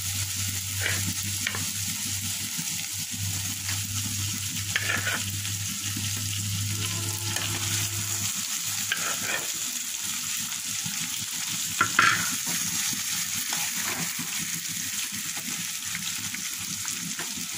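Fried koi fish being stirred into a cooked-down spice masala in a pan, a low steady sizzle running throughout with occasional soft scrapes from the spoon, fairly quiet and without talk.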